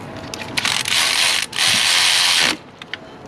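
A ratchet socket wrench clicking rapidly in two loud bursts, close up, while working on a 2005 LLY Duramax diesel engine during a head gasket replacement.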